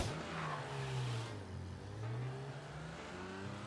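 A car engine in the game Mafia: Definitive Edition revs in rising and falling surges, close and steady, with tyre noise and no speech.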